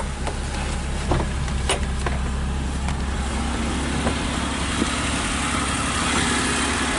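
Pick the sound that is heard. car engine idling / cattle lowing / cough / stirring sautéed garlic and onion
car engine idling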